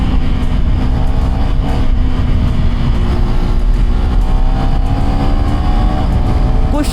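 A KTM Duke 390 motorcycle rides on Indian roads, its engine droning loud and constant with rising pitch as it accelerates, mixed with heavy wind rush and no talk.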